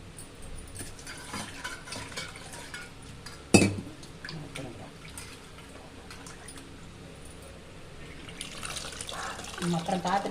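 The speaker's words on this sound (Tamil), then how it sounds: "அந்த புளிப்பு காய்ச்ச தண்ணி ஊற்றிக்கலாம்" Tamarind water is poured into a pot of boiling rasam with lentil water, a soft splashing pour with a sharp clink of a vessel partway through and bubbling liquid building toward the end, under quiet talk.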